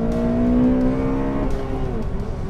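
A Honda Civic Type R FN2 with its 2-litre naturally aspirated VTEC petrol engine revs hard, a bright rising engine note with clear harmonics that climbs and then drops as it shifts, close and loud with no talk.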